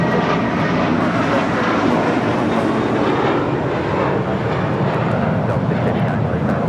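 A JetBlue Airbus A321 jet airliner at LAX makes a loud, continuous broadband roar that holds steady from start to finish, close and dominant.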